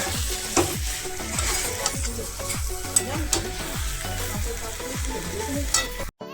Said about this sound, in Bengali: এবারে আলুটার সাথে ভালো করে মশলাটা মিশিয়ে নেব